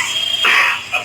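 A person coughs into the arm as a hygiene demonstration, giving a single short, muffled cough that is close and fairly loud and stands alone without talk.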